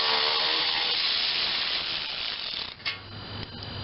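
Ratchet working self-tapping screws out of a Dixon zero turn mower, a steady mechanical clicking rasp that runs throughout, with a brief knock near the end; no talking.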